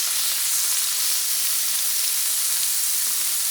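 Beef tenderloin sears in a hot cast-iron pan with a loud, constant sizzle that holds steady throughout, and no one speaks over it.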